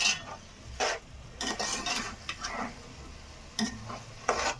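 Mutton with turmeric is stirred in a frying pan for gongura mutton. Scraping strokes come in irregular bursts over a soft sizzle, close and clear, with no talking.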